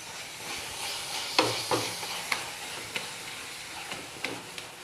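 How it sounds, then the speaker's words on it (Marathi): A spoon scrapes and stirs halwa with milk powder in a pan over a soft continuous sizzle, giving about eight distinct strokes at an uneven pace. "असंच हलवत राहायचं."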